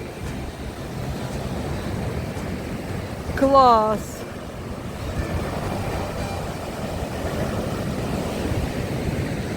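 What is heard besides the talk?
sea waves on Odesa shore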